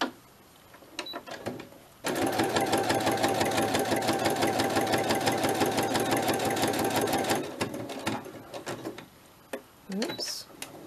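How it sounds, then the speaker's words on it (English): Sewing machine stitching around a fabric project, a close, loud, steady rapid mechanical whirr running for about five seconds, bracketed by quieter handling clicks and a short later burst. "So now what I'm going to do is just sew around the whole thing."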